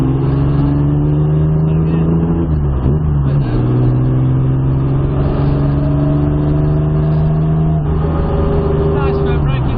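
A modified Jaguar E-type racing car's engine revs hard and loud up close, its pitch climbing, dipping sharply and rising again through the gears.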